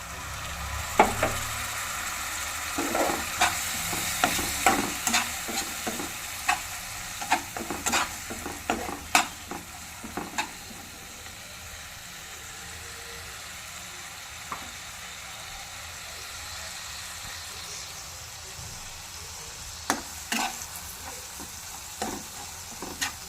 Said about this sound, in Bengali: এরপর আমি মশলাগুলোকে ভালো করে কষি।